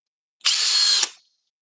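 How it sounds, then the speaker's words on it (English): A regular power drill spins up alone for about half a second, a loud steady high whine that cuts off sharply and winds down. "This is just regular drill."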